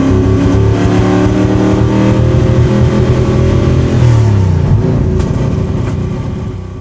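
A car engine at full throttle roars loudly up close, its revving tone stuttering and breaking up as it runs lean, then fading slightly at the end, with no talking.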